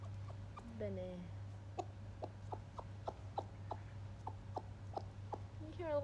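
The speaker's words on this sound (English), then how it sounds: "You hear little chicken noises?" Chickens cluck in a quick, regular series of short, close clucks over grass, with a few higher drawn-out calls, over a constant low hum.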